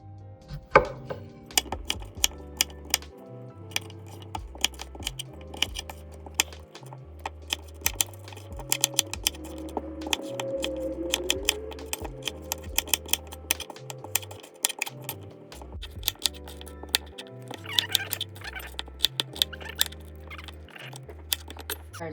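A knife dices peeled potatoes on a cutting board in quick, sharp, irregular chops, close and crisp, with no talk.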